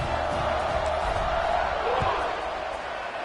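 Stadium crowd at an American football game roaring just before a kickoff, a loud, steady wash of cheering with a thump near the end and a commentator talking over it.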